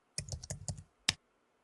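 Keys on a computer keyboard are tapped in a quick run of about six clicks, then a short pause and one final sharper keystroke. The sound is close and clear, with no speech over it.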